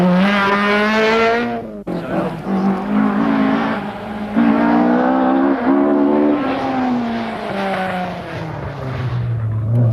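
A Ford Escort rally car on a 1983 Donegal International Rally stage, its engine revving hard and rising and falling through gear changes, loud and close, with brief tire noise and a commentator's voice faintly underneath.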